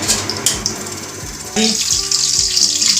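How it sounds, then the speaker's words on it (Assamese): Panch phoron spices dropped into hot oil in a home kitchen, making a loud, close sizzle that jumps up sharply about halfway through and keeps hissing steadily to the end. "তেল গৰম হৈ গ'ল, এতিয়া ইয়াত চম্বাৰ দিব লাগিব। পাঁচফোৰণ চম্বাৰ দি দিলোঁ ইয়াতে।"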